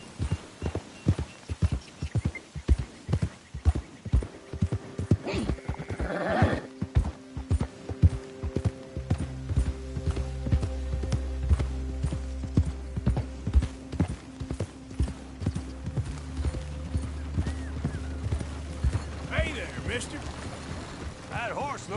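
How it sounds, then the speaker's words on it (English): Steady clip-clop of horse hooves trotting in an even rhythm in a PS4 video game, joined by a low droning hum midway, with brief voices in between. "That horse looks like a fine traveling companion."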